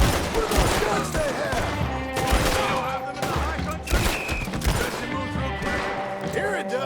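Rapid gunfire crackles through a shootout in the video game Red Dead Redemption 2, volleys of overlapping shots and bursts mixed with character voices and game clamor.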